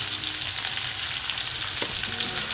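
Chopped onions hitting hot oil in a pan alongside fried quail, a bright steady sizzle with faint stirring scrapes, close and even over a few seconds, no speech.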